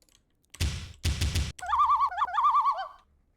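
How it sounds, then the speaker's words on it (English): Warbling, cooing bird calls in two short phrases, close and clear, follow a couple of thumping knocks, like a pigeon or dove sound used as Foley for a music track in the studio. "talk about bird sounds"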